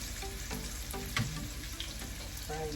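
Chicken balls and squid balls frying with tofu in hot oil, a steady close sizzle running throughout with a few soft clinks of a utensil stirring.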